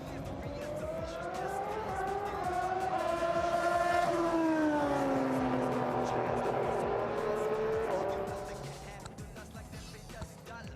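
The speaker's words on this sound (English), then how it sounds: "Such a demonstrable sound as the cars slow down, as well as when they're at completely full tilt also." Ferrari race cars on the Imola circuit during the Ferrari Finali Mondiali 2022 show, engines howling at high revs as they rise and fall in pitch while passing, loud and sustained before fading off toward the end.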